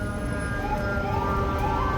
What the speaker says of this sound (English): All you hear is sirens, whether they're ambulances, fire trucks.